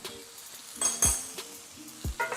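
Ingredients for creamy chicken marsala sauté in a hot pan on a stove. Soft sizzling sits under a few sharp clinks and scrapes of a utensil stirring against the pan, close and fairly quiet.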